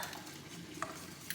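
A spoon stirs cheese sauce in a pot with soft, quiet scraping, and a couple of light clinks of utensil against metal are heard.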